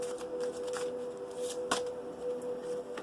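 Oracle of Avalon cards are handled and shuffled at a tarot reading, with soft papery flicks and scattered riffling taps, quiet and close, with no speech.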